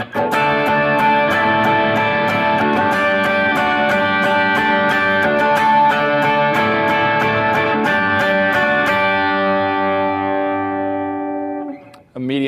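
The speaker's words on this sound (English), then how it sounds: "A medium overdrive." Electric guitar through a medium overdrive effect, sustained distorted chords with regular strummed attacks that ring out and fade near the end, loud and close with no speech over it.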